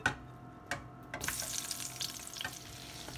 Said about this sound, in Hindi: अब मैं इसमें डालूँगी बैंगन, इनको करेंगे फ्राई